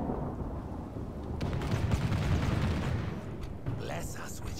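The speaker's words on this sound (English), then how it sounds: "Oh, lovely thunder." Rolling thunder rumbles through a Total War: Warhammer Skaven campaign battle, a steady loud low roar swelling through the middle and easing off, with speech over it.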